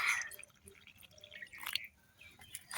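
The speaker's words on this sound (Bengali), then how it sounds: "তো পানিটা দিয়ে দিচ্ছি" Water poured into a fritter batter of mustard flowers and coriander leaves, heard as faint, close dribbling and dripping splashes in short uneven bursts, with no talking.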